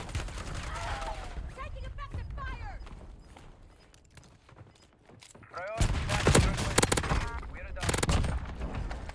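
Gunfire in the Warzone video game: bursts of rapid automatic shots, some distant and some close and loud, with voices talking over parts of it.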